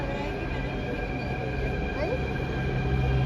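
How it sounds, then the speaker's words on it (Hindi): A metro train arriving at a station during a Jaipur trip, a steady rumble and hum of the train pulling in with faint squeal, with background chatter from the platform crowd. "मेट्रो आ गई हमारी,"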